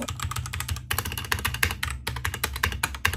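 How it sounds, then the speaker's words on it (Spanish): Fast typing on the mechanical keys of a cheap gaming keyboard from an Amazon returns mystery box, a dense stream of close, crisp clacks with two brief pauses. "escuchen estas deliciosas teclas mecánicas"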